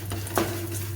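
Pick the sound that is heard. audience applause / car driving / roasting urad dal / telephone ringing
roasting urad dal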